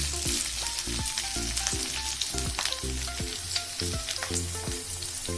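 Chicken with capsicum stir-fries in a pan on low flame for chilli chicken, a continuous close sizzle with scraping stirring strokes and clinks throughout, no talking.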